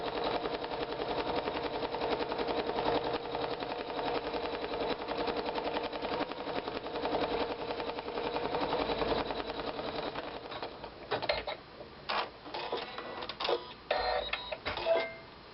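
An embroidery sewing machine stitches down an appliqué quilt piece, a fast, steady mechanical whirr with rapid needle rhythm running continuously for about ten seconds, then breaking into shorter, irregular bursts and clicks.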